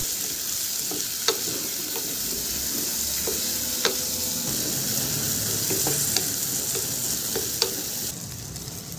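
A large thick-cut tomato fries with garlic in a pan for Marathi-style masoor dal, giving a steady broad sizzle throughout, with a few sharp clicks of a spoon stirring against the pan and no talking.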